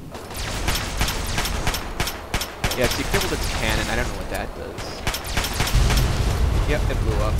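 An explosion in the Fallout 3 video game, booming low rumble amid bursts of gunfire and clatter, with someone talking over much of it.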